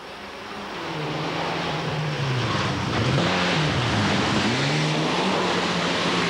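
A rally car on a slippery special stage at the 1998 Petronas Malaysian Rally Championship in Selangor, its engine rising and falling through the gears as it revs hard, heard from a moderate distance and growing louder.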